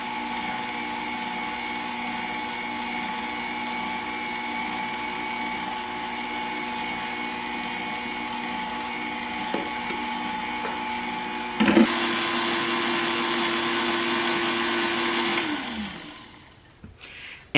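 An electric hand mixer whirs steadily while beating eggs into pound cake batter in a bowl. A loud, even motor drone shifts pitch partway through, then winds down and stops near the end.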